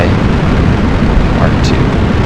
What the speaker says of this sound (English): 4, 3, 2, 1. Liftoff of Flyby